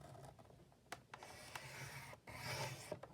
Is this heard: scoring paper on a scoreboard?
yes